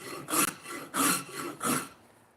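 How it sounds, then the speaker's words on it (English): A dull, discarded horseshoeing rasp files wood in three even back-and-forth strokes, each a loud, close, gritty scrape with short pauses between. "So you see how that's cutting? That is a dull, thrown away horseshoeing rasp."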